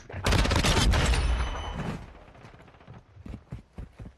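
Video game gunfire in a first-person shooter match: a loud, dense burst of rapid shots for about a second and a half, then fading into scattered sharp reports and clatter, close and dominant.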